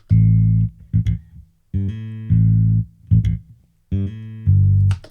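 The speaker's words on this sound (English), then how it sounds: "I just go ahead and I solo that bass guitar" A solo bass guitar plays a slow, sustained line of deep notes with short pauses and a few quick plucked fills between them.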